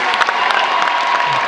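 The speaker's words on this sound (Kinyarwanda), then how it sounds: "inyamibwa culture troup mubongera amashyi menshi cyane rwose" Brief burst of crowd applause for the Inyamibwa culture troupe, dense clapping with a faint cheer, close and steady.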